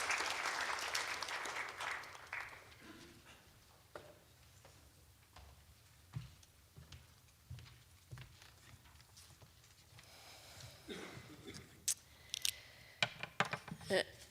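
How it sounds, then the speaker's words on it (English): Audience applause welcoming a guest speaker at a prize lecture event in Tokyo, a dense wash of clapping at the start that thins into scattered, separate claps and small bursts as the clip goes on. "Please welcome with a round of applause."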